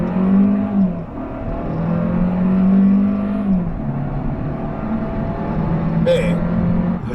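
Hyundai Sonata 1.6 turbo in sport mode under hard acceleration from a standstill makes a loud, continuous low engine drone that rises and falls near the listener, with a brief sharp noise close to the end.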